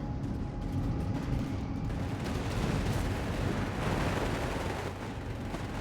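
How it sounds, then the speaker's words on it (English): Howitzer artillery fire in Company of Heroes 3, a dense continuous rumble of distant booms and battle noise at moderate level, with no speech. "I was not expecting a howitzer there"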